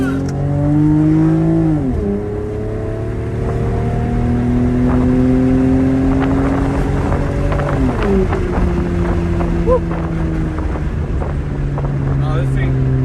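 A Lexus SC300 with its EGR deleted drives along at close range, its engine tone climbing and dropping as it revs and shifts, with wind buffeting throughout.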